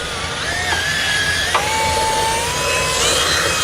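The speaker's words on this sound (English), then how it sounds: "We're going to drill through that foam and kind of clear out an area for your wires to pass" A continuous whining drill grinds through a vehicle panel and foam, its pitch stepping up and down as the bit works, loud and close with no talking.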